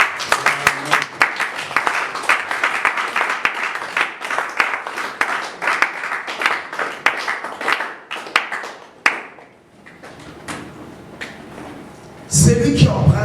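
A church congregation clapping and applauding in praise of the Lord, a dense, sustained crowd of hands mixed with voices, then thinning out before a brief louder burst near the end.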